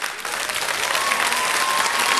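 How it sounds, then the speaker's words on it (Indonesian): Audience applause for singer Lia at an Akademi Fantasia concert, a dense, steady wash of clapping that holds evenly loud throughout with no voices breaking through. "tepuk tangan untuk Lia"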